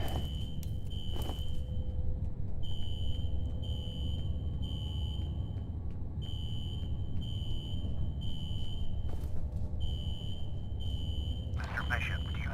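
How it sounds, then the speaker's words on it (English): Fire alarm in the video game F.E.A.R., set off in a security office: a steady high electronic tone pulsing in regular repeated bursts, with a low game ambience beneath and a few brief clanks. "A fire alarm. It was triggered at a security office on that floor."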